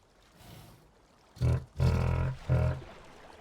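A Spinosaurus roars in the Prehistoric Kingdom game, three deep, rumbling bursts in close succession, loud and near, the middle one longest, following a fainter low growl.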